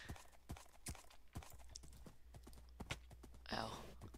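Horse hooves clip-clop at an irregular trot in a video game, with sharp distinct hoofbeats, a faint low hum beneath and a brief burst of noise near the end.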